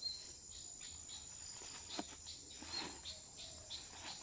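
Insects chirp outdoors in a steady, faint, high-pitched drone that runs throughout. A few soft rustles and distant sounds are scattered over it.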